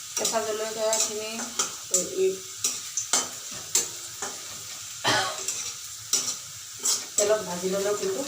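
Onions and green chilies fry in hot oil with a steady sizzle, broken by repeated stirring scrapes and clinks of a utensil against the pan.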